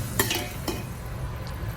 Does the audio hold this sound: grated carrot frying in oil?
yes